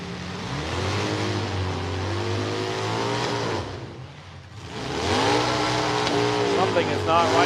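Race car at a demolition-style bash with an ailing, stalling power plant, its engine droning and revving unevenly up and down, briefly dipping before surging again, with an announcer talking over it.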